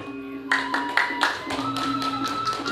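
Audience at a Balinese Drama Gong theatre performance claps in a steady run of sharp bursts, layered over sustained tonal music and a murmur of voices.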